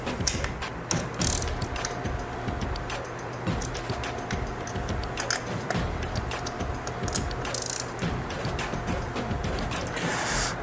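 Bolts on a Vance & Hines air cleaner being snugged down on a 2022 Harley-Davidson Road Glide ST, a run of close ratchet clicks in quick bursts over a faint steady background hum.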